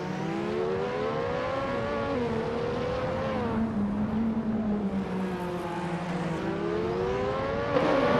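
Race cars from a 1988 Formula 1 field in a racing video game, lapping the Berlin circuit, drone past in a steady, loud engine whine that rises and falls as they accelerate and brake through tight corners.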